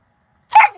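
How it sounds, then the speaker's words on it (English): A puppy lets out a single short, sharp bark after silence, close and loud, its tail fading into a brief whiny trail. "Look at the puppy."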